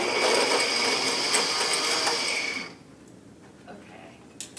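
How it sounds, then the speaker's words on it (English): Kitchen blender running loud and steady with a whirring, grinding motor drone, cutting off abruptly partway through, followed by quiet room noise. "So what you want to do is just blend it"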